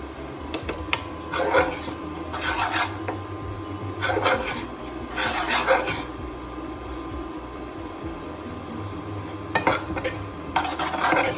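Tapioca pearls are stirred and roasted in a pan for khichadi, a spoon scraping and rasping against the pan in repeated close bursts separated by short quiet gaps.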